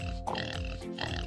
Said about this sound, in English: You know what sound pigs make?